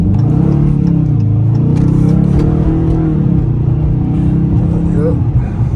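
A 2023 Dodge Challenger R/T Shaker revving and accelerating on a drive, heard from inside the cabin as a loud, steady engine drone rising and falling in pitch, with a voice speaking over it.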